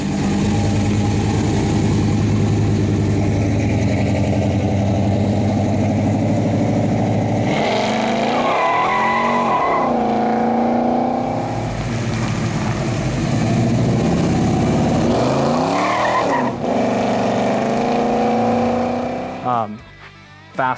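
A classic car's engine runs steadily nearby on a dealer lot, a low rumbling idle with a couple of rises in pitch, while people talk over it.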